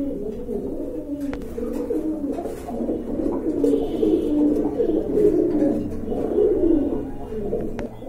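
A large pair of pigeons, a male and a female, coos in low, rolling, overlapping calls close by, with the soft warbling continuing steadily throughout.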